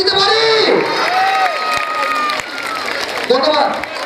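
Audience at a live event cheers and applauds, a loud crowd roar with shouts and whoops, voices mixed in throughout.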